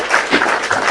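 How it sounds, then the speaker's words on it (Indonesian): Audience applause, steady dense clapping from a crowd, loud and close throughout with no break. "Tepuk tangan, tepuk tangan."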